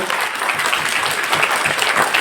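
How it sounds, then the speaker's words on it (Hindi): An audience at a company motivational event claps in a dense, steady burst of applause that carries loudly and evenly throughout. "मैं चाहूंगा कि अपने लिए तालियां बजा सकते हैं"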